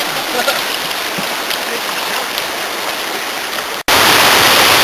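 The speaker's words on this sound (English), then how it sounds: "There's a waterfall up there." Steady broadband roar of a waterfall and rapids on the Verde River, continuous and fairly loud throughout, with a brief dropout near the end before the rushing water resumes.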